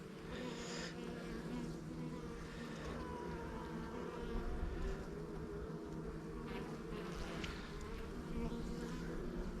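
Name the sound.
honey bees buzzing in open hive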